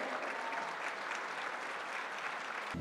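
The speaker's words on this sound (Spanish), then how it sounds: "Un aplauso a Mazatlán, por favor." Steady, even applause from an audience at a tourism trade fair stand in Mexico, a continuous dense patter of many hands that holds throughout and breaks off abruptly at the very end.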